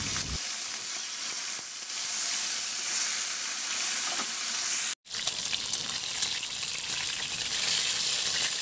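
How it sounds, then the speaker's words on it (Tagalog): Fish frying in hot oil in a pan, a loud close sizzle that continues steadily, cut by a brief break, then resumes at the same level, with no talking. "sa kawali at saka na natin iprito yung isda"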